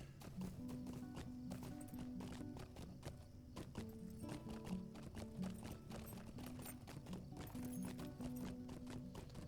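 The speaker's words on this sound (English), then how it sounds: "But it is faster on the horses." Horse hooves clip-clop steadily while riding in the Lord of the Rings Online game, a continuous rhythmic patter of footfalls with a few whinnies over busy game sound.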